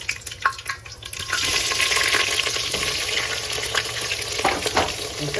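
Onions frying in hot oil with whole masala spices for Ambur chicken biryani, a loud, steady close sizzle with stirring clatter that swells after a brief quieter start.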